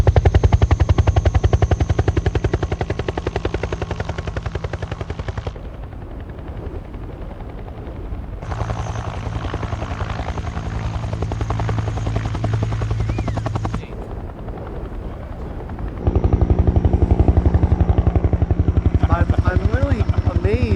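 An aircraft with an air data boom takes off in gusty wind, making a loud, continuous, throbbing drone with a rapid chopping beat. People talk throughout, partly over the noise.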